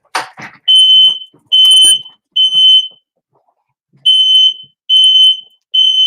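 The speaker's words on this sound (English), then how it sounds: "My alarm went off." Smoke alarm sounding in a craft workspace during clay curing: a loud, piercing electronic beep repeated in bursts of about half a second with short gaps, with brief faint talk at the start.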